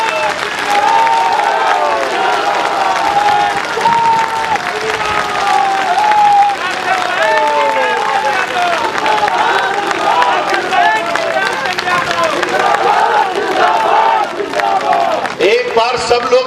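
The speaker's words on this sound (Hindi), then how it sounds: "जरा जब तक हम माला पहनाए तब तक तालियां बजाते रहिए।" A large crowd at a political rally claps loudly and continuously for over fifteen seconds, a dense sustained wash of applause with tonal voices and music-like sounds layered over it.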